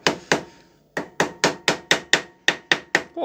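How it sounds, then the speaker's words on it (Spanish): A rubber mallet taps a stuck water pump cover on a Benelli TNT 25 motorcycle, about a dozen sharp, close blows in a steady rhythm after a short opening pair and a brief pause. "Esperen que voy a buscar martillito de goma, porque está clavado en la guía"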